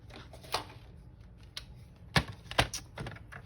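Scissors cut a paper file folder to trim it for fit, giving a few crisp, close snips spaced irregularly in an otherwise quiet room.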